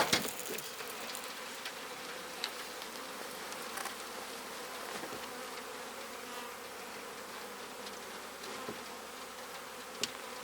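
Honeybees swarm around an open hive during a July inspection at Acorn Acres Apiary, a steady close buzzing drone with occasional faint knocks and clicks from handling the equipment.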